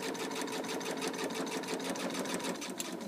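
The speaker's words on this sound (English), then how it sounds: "Okay, so I'm sewing." Sewing machine stitching fabric with a steady, rapid mechanical rhythm, close and continuous throughout, with no talking.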